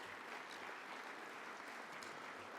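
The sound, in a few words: round of applause at luncheon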